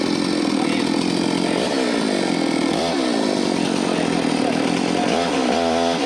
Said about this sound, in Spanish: te invitamos a probar la Motosierra Bonhoeffer de 36 pulgadas, una herramienta potente y confiable